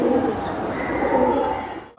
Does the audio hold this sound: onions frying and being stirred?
no